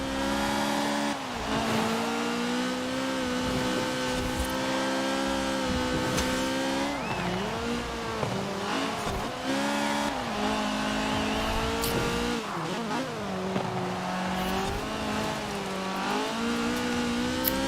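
A GT70 A-class rear-wheel-drive rally car in Forza Horizon 4 revs hard and steadily, its engine pitch rising and dipping through gear changes, with tire squeal through corners. The sound is loud, continuous and has no talking.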